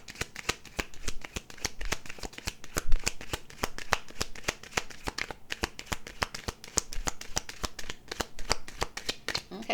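A deck of cards shuffled over and over, a rapid riffling patter of flicking cards repeating steadily and close by for the whole stretch, with no voices.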